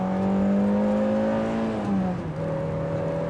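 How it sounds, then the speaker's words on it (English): A car engine climbs steadily in pitch as the vehicle accelerates through the gears, with a smooth whirring tone, one brief dip at a shift and the rise resuming, heard from inside the cabin without talk. "Let's see what the acceleration is like now."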